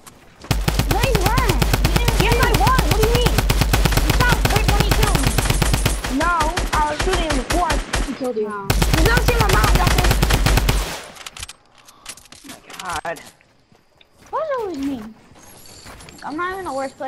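Rapid automatic gunfire in the Fortnite video game, loud dense bursts lasting several seconds with a short gap, then scattered shots and effects while a player talks excitedly over it.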